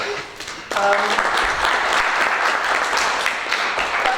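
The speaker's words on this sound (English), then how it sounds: "I think we also need to clap for UNHCR" Audience applause for UNHCR at a law moot court competition: a sustained, dense wash of clapping from a room full of people, rising abruptly after a brief moment of speech and holding steady throughout.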